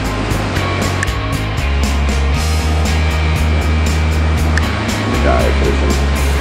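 Ocean surf breaking on a beach in Panama City in the early morning, a loud continuous wash of waves with low rumble, close and steady, no voices.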